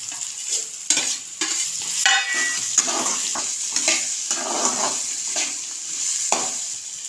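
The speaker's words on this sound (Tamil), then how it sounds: "வெங்காயம் நல்லா வதக்கி இப்போ பீட்ரூட் சேர்த்துக்கலாம்." Beetroot tossed into a pan of sautéed onions and garlic, stir-fried with a spatula: continuous close sizzling broken by repeated scraping strokes and soft clatters, with no talking.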